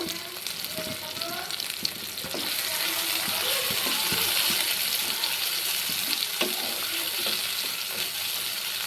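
Chopped tomato and green chillies sizzling in hot oil with nigella seeds for a pabda fish curry, a loud continuous close fry with intermittent stirring scrapes and clacks.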